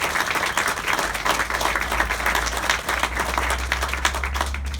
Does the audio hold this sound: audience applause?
yes